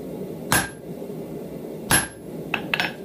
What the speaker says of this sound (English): So we've got three blows to shape that ridge line